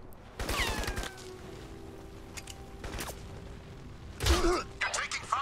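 Gunfire from the game Crysis Remastered: a rapid burst of shots at the start, a single sharp shot midway, then another heavier volley near the end, all fairly close and punchy.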